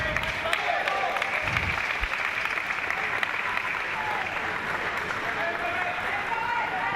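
A Great Britain crowd at a para table tennis match cheers and claps in sustained, dense, loud applause, with a commentator talking over it.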